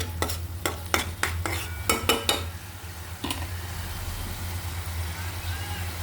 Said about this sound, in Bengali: পর পেঁয়াজগুলো সুন্দর করে এইভাবে ভেজে নিতে হবে। এখন আমি ভেজে নিচ্ছি।